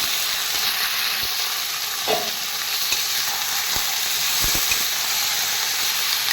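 Marinated boneless chicken stir-fried with capsicum and spring onion in a hot pan, a steady sizzling hiss with occasional scrapes and taps of the spatula as it is stirred.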